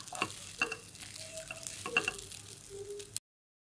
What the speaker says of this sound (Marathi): 1 ते 2 मिनिट चांगल्या परतून घ्यायच्या गॅसवर.